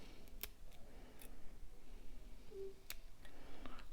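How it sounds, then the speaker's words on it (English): Small scissors snip off a feather stem while a fly is tied, a few quiet, sharp clicks spaced apart against a faint background hiss. "we're just gonna cut off this stem"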